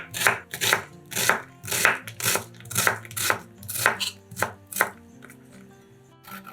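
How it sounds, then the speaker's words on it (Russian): A knife dicing one onion on a cutting board, a brisk series of about a dozen sharp chopping knocks in steady rhythm, close and clear, slowing and fading near the end. "Одну луковицу нарезаем кубиками."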